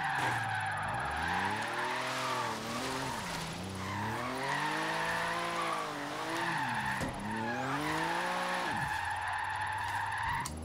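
A Porsche 959 in a racing video game drifts with long, sustained tire squeals, the engine note rising and falling throughout without a break.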